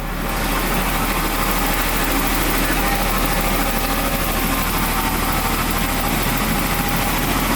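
A Jaguar car engine idles steadily with a smooth, even rumble that stays constant throughout, with no revving.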